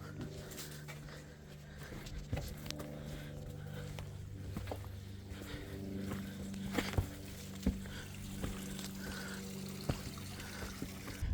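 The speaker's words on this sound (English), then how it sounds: "so that was the waterfall. Okay, that was Honeymoon Waterfall." Water trickles and pours at Honeymoon Waterfall in Pine Mountain State Park, Kentucky, a soft continuous splashing heard close but quietly, with occasional footsteps and small knocks on the trail.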